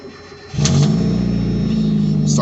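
First-generation Mazda MX-5 Miata cranks briefly and catches, settling into a steady, close idle rumble outdoors on a rainy day with falling leaves.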